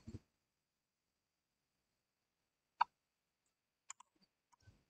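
A single sharp key press, as of an Enter key on a computer keyboard, clicks once in a quiet room, followed by a few fainter clicks and taps.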